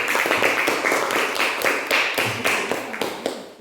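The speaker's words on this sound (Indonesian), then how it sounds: "Sekali tepuk tangan untuk kelompok 1" A Grade 5 elementary classroom joins in a short round of group clapping for a presenting student group: sharp, fairly even claps in a loose rhythm, close and steady throughout.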